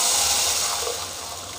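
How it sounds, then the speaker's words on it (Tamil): A diluted buttermilk mixture pours into a cooking pan for a tangy South Indian curry with ajwain, giving a short, steady liquid gush and splash that fades slightly, close with no talk. "இப்போ நம்ம கரைச்சி வச்சுருக்க இந்த மோர் கலவையை வந்து இதில் சேர்த்துடலாம்"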